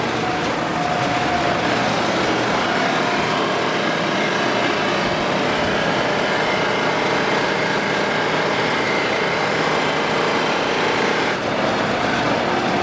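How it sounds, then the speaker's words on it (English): Steel drum tension rods are cleaned on a spinning wire wheel, making a loud continuous whirring grind with a steady motor whine that holds unchanged throughout. "Put all the T-rods on the wire wheel"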